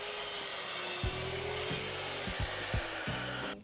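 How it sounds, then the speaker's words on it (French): A saw cuts through wooden planks for a terrace vegetable planter, its close, rasping strokes settling into a steady back-and-forth rhythm after a second of quieter rubbing. "Là, je coupe la planche qui fera le fond."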